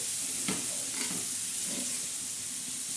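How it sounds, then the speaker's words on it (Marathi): Eggplant, capsicum and potatoes fry on a hot griddle, a continuous sizzle broken by a few scraping strokes of a spatula as the vegetables are stirred, close and without talk. "हे बघा असे चांगले मस्त असे हलवून घेणार आहोत तर याला सुद्धा फ्राय करून घ्यायचं ना"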